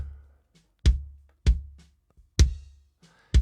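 Four punchy kick drum hits, close and dry, miked inside for a sharp beater click and outside for a deep thump, evenly spaced with short silences between.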